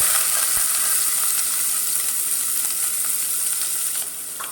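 Chopped onions and cumin seeds fry in hot oil, giving a steady, dense sizzle that stays close and loud throughout with faint crackles and no talking; it eases slightly near the end.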